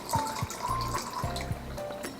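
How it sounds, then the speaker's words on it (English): Water trickles and pours into DIY snow globe jars in short gurgling bursts, with clinks and small handling sounds between pours, close and fairly quiet. "now it's the scary part, adding the water"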